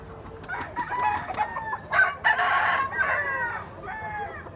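A white gold bull stag rooster with yellow legs crows close by, the call broken into a few rough bursts with clucking around it, and no voices are heard.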